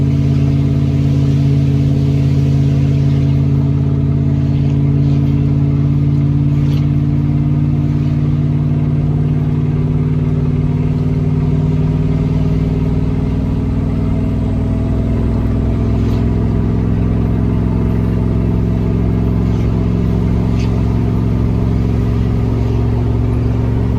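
A car engine hums steadily and loudly while the vehicle pulls off towing a trailer, a constant low droning rumble with little change in pitch, alone with no talk.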